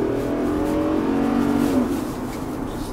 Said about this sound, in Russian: звук мотора не напрягает на малых оборотах, ну и на трассе тоже